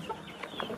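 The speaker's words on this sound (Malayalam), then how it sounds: "ഈ കാണുന്നതാണ് ബ്രഹ്മ കോഴികൾ." Brahma chickens, a heavy and costly breed, cluck on a fancy poultry farm, giving a few short, close clucks over a low background murmur.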